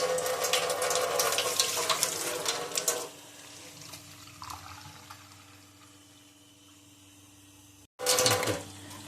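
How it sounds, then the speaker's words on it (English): Water gushes from a newly installed VonWater 600G reverse osmosis under-sink faucet, loud and steady for about three seconds, then drops to a quieter flow with a low hum from the system. A short, strong burst of flow comes near the end. "Water's coming out a little bit more clear"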